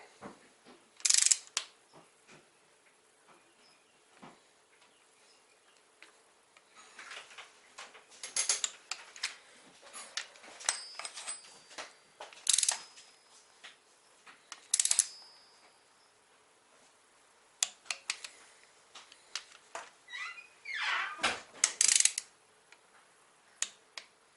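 A torque wrench clicks and ratchets in scattered sharp, faint bursts while bolts are tightened on a VW Mk4 1.8T engine during oil pump and oil pan installation.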